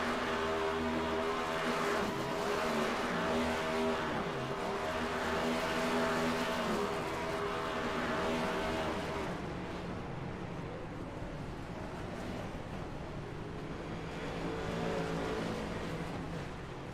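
Race cars roaring around Michigan International Speedway in the sim racing game iRacing, a steady dense engine drone with shifting pitch and passing cars throughout, loud and continuous with no talk.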